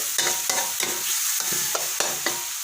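Spatula stirring pork and cucumber stir-fry in a hot pan, with regular scraping strokes about every half second over a constant sizzle and no talking.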